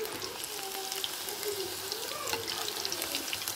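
Pieces of food frying in a pan on slow medium heat, giving a steady, even sizzle and crackle throughout with no pauses.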